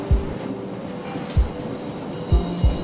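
A train rolls along its rails with a low rumble, broken by a few heavy, irregularly spaced clacks as wheels pass over track joints.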